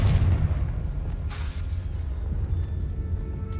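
A fire-blast spell cast in Hogwarts Legacy on PS5 bursts with a deep, rumbling boom that swells from the start and keeps rolling low and heavy under a sustained game soundscape.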